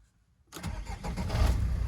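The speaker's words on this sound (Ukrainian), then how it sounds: "Моторчик робить просто як годинник, можна так сказати." A 2005 Renault Trafic with a 1.9 diesel engine cranks and catches after a brief silence, then settles into a steady, close rumbling idle.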